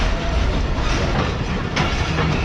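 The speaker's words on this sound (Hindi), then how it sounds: "और एक ZCU के साथ ट्रेन भी अप्रोच बना रही है सर रोड़ी जंक्शन पर" A train approaches Rohri Junction in heavy rain, giving a steady, loud rumble with clickety-clack wheel noise and broadband rail roar throughout, no voices.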